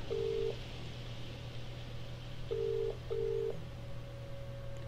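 Telephone in a video game: three flat electronic tones sound, one at the start and two close together later, each under a second, over a continuous low hum and a thin high tone.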